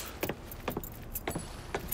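Keys jangle in Mafia 3, several short metallic clinks in a loose, uneven rhythm, close and fairly quiet, with faint car ambience underneath and no talking.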